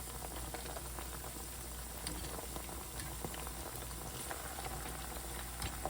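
Chicken bites frying gently in oil until lightly browned, a soft continuous bubbling crackle with scattered tiny pops, faint and steady throughout.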